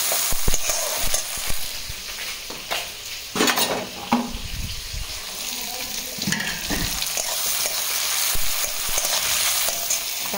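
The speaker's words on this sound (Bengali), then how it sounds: "আলু শাকটা একটু ভেজে নেব" Potato greens frying in a pan, a steady sizzle with bursts of stirring and scraping as they are turned, fairly close and continuous.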